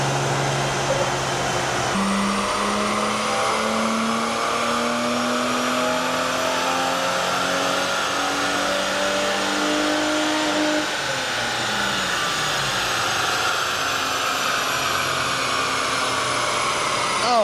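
A BMW E34 fitted with a 3.7-litre M30 stroker inline-six revs hard on a dynamometer, engine pitch climbing steadily through a long pull before dropping off and settling into a steady high drone.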